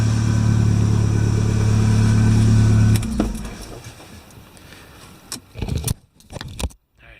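A 1988 Merkur XR4Ti's engine idles with a loud, steady hum, then cuts off abruptly, leaving near silence broken by a few jangling keys and clicks.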